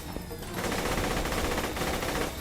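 Rapid automatic gunfire from a fast-firing shredder gun in the Borderlands video game, a dense continuous burst of shots loud and close throughout.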